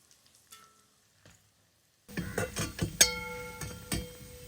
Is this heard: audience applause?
no